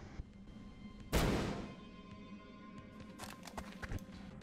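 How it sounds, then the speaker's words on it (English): A flashbang grenade goes off in the XCOM strategy game, one sharp burst that decays over about half a second, followed by faint clicks and small impacts at low level. "All that's left now is to let Newman's flashbang loose."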